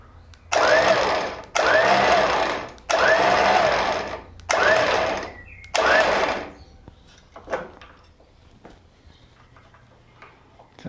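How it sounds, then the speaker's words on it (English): A Terrafirma winch motor fitted to a Land Rover Defender whirs in five short, loud bursts separated by brief pauses, then falls quiet apart from faint clicks. "Beryl's got a working winch."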